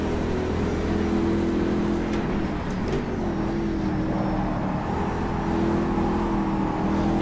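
Panoz Roadster, a 300-horsepower car, revving in rFactor 2 at Putnam Park, its engine droning loud and steady with shifting pitch throughout, close and continuous with no talk.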